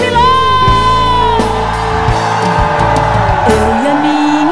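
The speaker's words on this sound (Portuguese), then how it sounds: "Aqueles que servem ao Senhor, dê um grito de júbilo!" A church congregation shouts and cheers for joy over sustained worship music, a loud crowd of whoops and yells blending with held chords.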